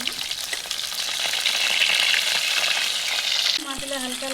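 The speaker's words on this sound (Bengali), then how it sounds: "মাছগুলো হালকা লাল লাল করে ভেজে নিয়েছি" Fish sizzling in hot oil in a kadai for a Bengali-style dish, a dense, steady spitting hiss that shifts abruptly near the end as a piece is flipped.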